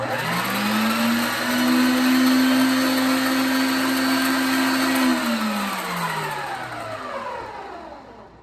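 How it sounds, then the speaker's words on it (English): Electric stand mixer kneading King's Cake dough, a loud steady motor whine that ramps up in pitch, holds for several seconds, then winds down and trails off near the end. "I'm gonna mix this to get it to a nice soft dough"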